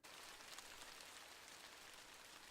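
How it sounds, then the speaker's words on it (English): Rain falls in the video game Minetest, a faint, steady hiss of drops with no voices. "it's raining again"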